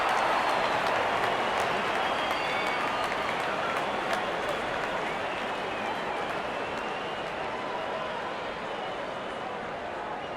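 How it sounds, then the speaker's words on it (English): A stadium crowd at a cricket match between India and New Zealand gives sustained, loud applause for a batter reaching fifty, a dense wash of clapping and crowd noise running steadily throughout. "and gets a grand applause."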